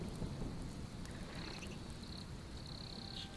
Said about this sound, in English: Hear that thunder roaring in the background there.